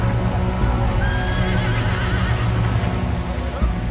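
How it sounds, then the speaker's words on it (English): Horses neigh and move amid a dense, constant wash of noise, with whinnies and hoof sounds blended into a loud, steady background rather than standing out sharply. "horses coming through the surf"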